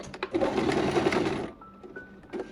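Sewing machine stitching a wig runs in a steady close whirring burst for about a second and a half, then stops, leaving faint room noise and a brief later knock.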